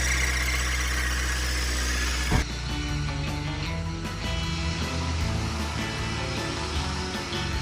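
A VW T25 Westfalia California van engine is cranked and then settles into a loud, steady idle. The shift at the start comes near the middle, and the running engine carries on close by to the end.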